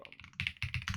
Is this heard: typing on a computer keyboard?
yes